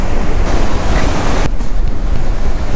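Waves breaking on a beach, a loud continuous roar of surf with wind buffeting the microphone close by.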